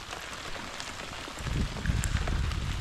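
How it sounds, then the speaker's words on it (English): Heavy rain pours down on a solo canoe trip along the Grand River, a steady close hiss of downpour that thickens and grows louder partway through, with no voices. "The rain is just coming down hard."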